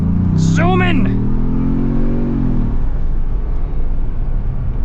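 A 2026 Ford Bronco Big Bend Sasquatch with a four-cylinder engine on 35-inch tires accelerates on a dirt course, a loud, close, rising engine drone heard from inside the cabin with a brief tonal squeal early on.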